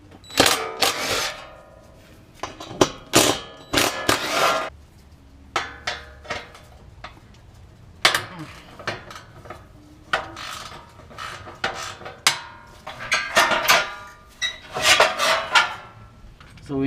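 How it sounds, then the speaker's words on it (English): Heat shield coming off a 2013 Subaru Impreza 2.0 turbo during clutch work, with repeated sharp metallic clanks, taps and rattles of tools and loose sheet metal at close range, irregular and fairly loud, with no talking. "I'm taking down the heat shield."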